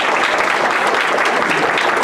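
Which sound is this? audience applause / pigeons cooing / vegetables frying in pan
audience applause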